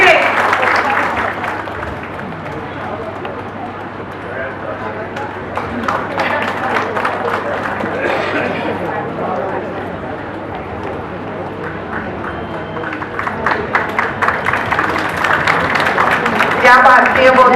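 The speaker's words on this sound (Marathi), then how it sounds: "जोरदार टाळ्या." Audience at a Buddhist society event in Badlapur applauds, a sustained clatter of many hands under and between loud amplified talk, swelling toward the end.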